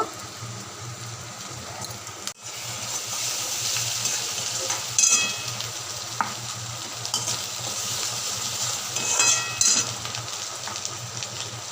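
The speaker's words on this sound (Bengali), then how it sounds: "রসুন বাটা দিয়ে দেব ভালো করে এগুলো লাল লাল করে ভেজে নেব" Garlic paste fries in oil in a pan with a steady close sizzle, punctuated by occasional scraping stirs and spatula clinks, no voices over it.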